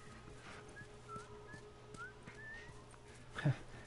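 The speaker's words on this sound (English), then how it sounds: "I love that she can now whistle." A character in The Last of Us Remastered whistles a few faint, thin notes over soft game ambience, with a short louder thump near the end.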